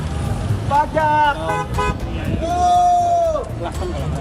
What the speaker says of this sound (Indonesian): Klakson teman-teman